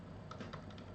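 Soft, quick keystrokes on a computer keyboard tap out Hindi text, faint and close with no voices.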